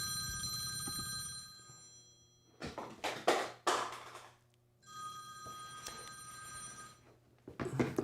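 A telephone rings in two long electronic bursts separated by a pause, fairly close and clear in a quiet room, with no talking over it.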